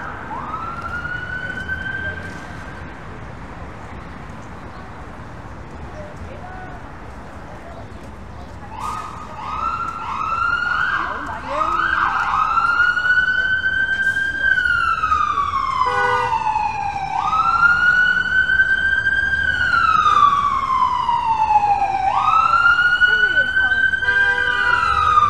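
An ambulance siren wails on a Toronto street near a streetcar, first faint and then loud and close, sweeping up and down in repeated long cycles over city traffic noise.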